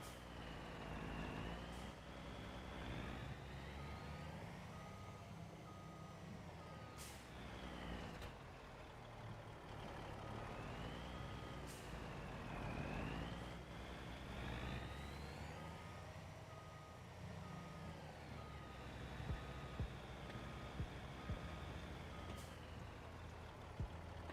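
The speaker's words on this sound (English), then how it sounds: "What happens when you've got a 1600 horsepower truck?" A 1600 horsepower truck engine in Farming Simulator 25 drones steadily, revving up and down in long rising and falling sweeps with a faint repeating beep over the rumble.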